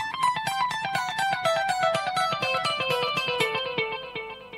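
Electric guitar through a slap delay: a rapid run of picked single notes, each echoed by a quick repeat, stepping steadily downward at a fairly soft, clean level.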